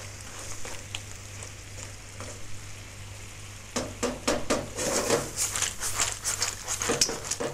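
Clams cooking in a pan with garlic and white wine give off a steady close sizzle, joined after a few seconds by louder bursts of stirring and scraping of pan and utensils.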